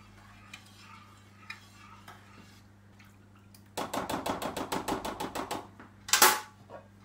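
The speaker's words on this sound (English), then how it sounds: "stir it all in" Mulled wine ingredients are stirred together in a pot, with quiet scattered clinks at first, then a fast burst of about a dozen rhythmic scraping ticks. A brighter splash-like clatter follows near the end, all close and fairly soft.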